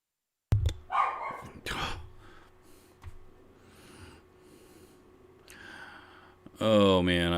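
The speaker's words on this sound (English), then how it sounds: "I've got the most ferocious little white 16-pound dog on the planet." A small white 16-pound dog barks and snorts in a few sharp bursts near the start, then lets out a louder burst at the end, with quieter indoor sound in between.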